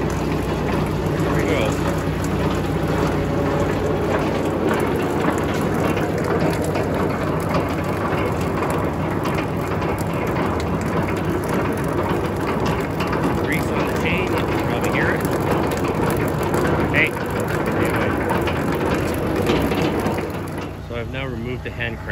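A snowblower chute rotator on a Farm King snowblower is cranked by hand, giving a continuous grinding, ratcheting mechanical churn that is close and steady, with a person talking over it.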